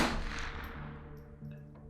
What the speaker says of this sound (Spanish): escuchó a sus espaldas otros 2 disparos